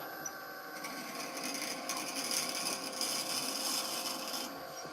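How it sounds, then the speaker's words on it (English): A drill bit bores steadily all the way through a piece of wood, giving a continuous gritty, rasping grind that holds at an even, moderate level for several seconds with no talking. "I'm going to drill this out, and I'm just going to go all the way through"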